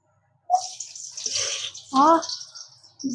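Onions dropped into hot oil for chops: a sudden hissing sizzle that swells and fades over a few seconds, with a voice speaking briefly partway through.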